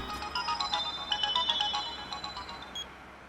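A mobile phone ringtone plays in a Telugu TV serial scene, a bright repeating electronic melody of quick tones that sounds clearly and alone, fading slightly toward the end.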